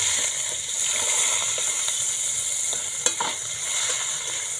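Chopped onion hits hot oil with nigella seeds and a green chilli, giving a loud, close, continuous hissing sizzle with light stirring scrapes and a brief clink partway through.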